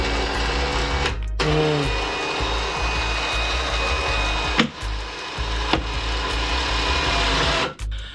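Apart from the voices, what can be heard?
electric winch on Can-Am X3 run by wireless remote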